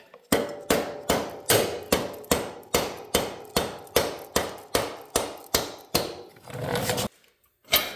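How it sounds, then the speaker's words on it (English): Rubber mallet knocking out the rear axle of a Harley-Davidson Sportster during a tire change: about a dozen evenly spaced, close, solid thuds with a brief scraping pause near the end. "It's got a rubber mallet. That way I'm not marring the end of that."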